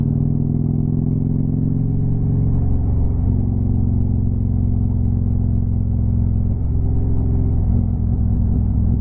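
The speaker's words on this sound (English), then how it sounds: "I might have downshifted a little soon there." A vehicle engine drones steadily and close while driving. Its low, heavy hum shifts pitch twice as the driver downshifts, and no voices are heard.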